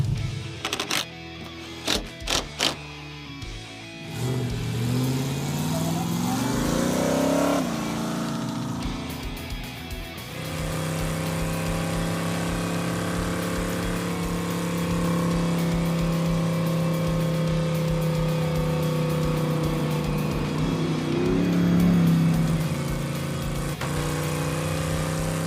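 A Hemi-powered Gremlin starts with a few sharp clicks, then its engine rises through an acceleration sweep and settles into a steady, droning cruise with a later rise in revs, loud and close throughout.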